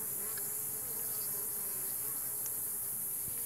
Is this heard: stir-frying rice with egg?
no